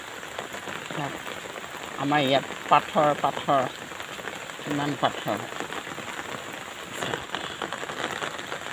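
Steady rain falls outdoors on a village plot as a constant hiss, while someone speaks in short bursts over it from close by.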